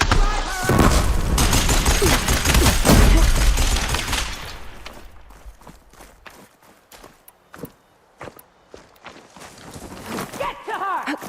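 Gunfire rattles through a battle in the video game Horizon Forbidden West: dense booming bursts at first, then scattered single sharp shots and thuds, with voices shouting over the action.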